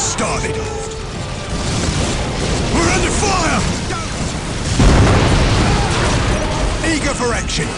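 Artillery explosions and battle noise in the strategy game Dawn of War Winter Assault, dense booms and rumbling blasts with one heavy impact midway, under shouted game voices.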